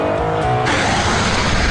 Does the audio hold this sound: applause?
no